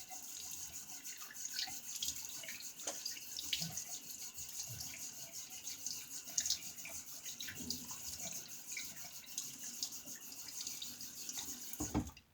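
Tap water runs steadily into a sink to rinse a Zomchi Blue safety razor, a soft continuous hiss with faint splashes and knocks, no voices.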